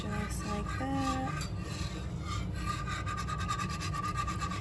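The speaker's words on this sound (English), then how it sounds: "This is why you want a whisk, so that you can get in there and you can get all of those clumps out" A whisk stirs homemade Alfredo white sauce in a pan, making faint, steady scraping and swishing strokes throughout.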